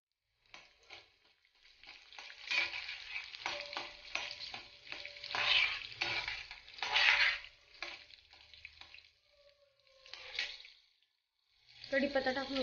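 Peanuts, dal and green chili frying in hot oil as a tempering for lemon rice, with crackling sizzle and stirring that rise and fall in waves while someone talks intermittently.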